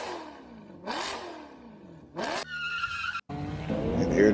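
A race car skids and spins around on the exit of a corner, with sweeping engine revs rising and falling, bursts of tire squeal, and a loud close engine roar at the end.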